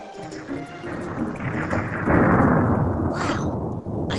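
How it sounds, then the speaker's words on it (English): Thunder rumbles through a stormy scene, a broad rolling roar that builds and peaks midway, with rain-like hiss underneath and a couple of sharper cracks near the end; no voices. "I can't believe that Benjamin Franklin was out in a storm like this just to do experiments with electricity."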